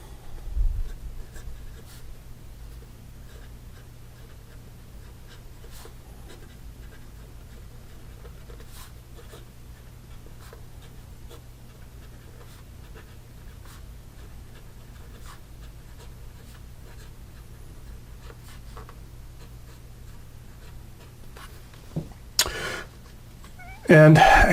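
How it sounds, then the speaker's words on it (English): An Omas Cristoforo Colombo II fountain pen with a medium nib scratches faintly across paper in soft, continuous strokes, with a few louder handling knocks near the end. "And here we go with the writing sample."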